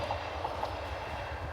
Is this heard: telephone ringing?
no